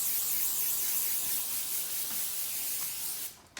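Cooking spray hisses onto a baking pan for snickerdoodles, one sustained close spray that cuts off abruptly near the end, with no talking.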